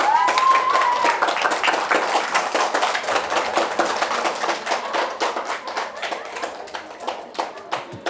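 Hands clap in a quick, dense burst after finishing a level 11 seblak meal, close and fairly loud, gradually thinning out, with a brief tonal chirp and some voices at the start.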